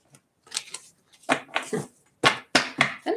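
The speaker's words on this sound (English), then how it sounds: "Let me shuffle." Tarot cards are shuffled by hand in short, crisp bursts of riffling and snapping, close and alone, with brief pauses between the bursts.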